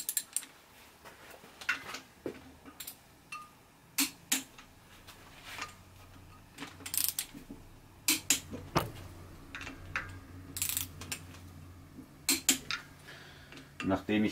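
Car clutch bolts being tightened in a crosswise pattern with tools from an SW Stahl clutch centering kit: repeated metallic clicks and clanks of tool on bolt, spaced irregularly over a quiet background.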